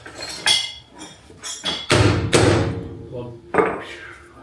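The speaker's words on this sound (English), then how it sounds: "My personal favourite little stubby hammer." A small stubby hammer strikes metal several times at an uneven pace, sharp metallic clanks with a couple of heavier blows, close by, while working on a 1971 Ford F100 front suspension.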